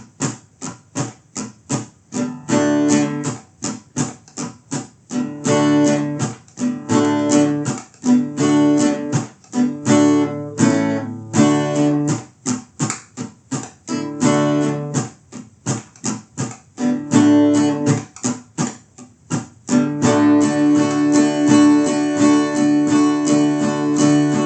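Acoustic guitar strums a chord pattern in steady, rhythmic strokes that run continuously, loud and close, with no voices over it.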